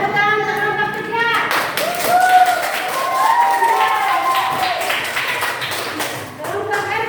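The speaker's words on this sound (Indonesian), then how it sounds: "Tepuk tangan untuk kelompok 3" Scattered clapping from a small group of students in a classroom runs under people talking, the claps coming as quick, uneven taps throughout.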